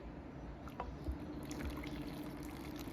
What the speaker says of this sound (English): And then I'm going to add my water.